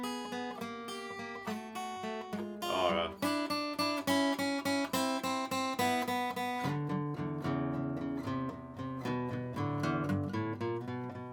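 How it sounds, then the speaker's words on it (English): A guitar plays a quick run of plucked notes, then a chord sequence that settles into a closing blues turnaround riff, loud and close with no backing. "Now turnaround sounds like this"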